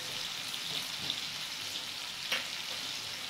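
Spices fry in a pan for Sylheti koi fish as turmeric powder goes in, making a soft, steady sizzle with a couple of small clinks. The sound is close but fairly quiet, and no one speaks.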